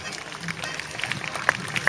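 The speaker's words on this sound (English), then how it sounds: "Give them a good round of applause there" Outdoor audience at a falconry festival's grand parade clapping, a brief burst of scattered applause with footsteps, partly under someone speaking over a loudspeaker.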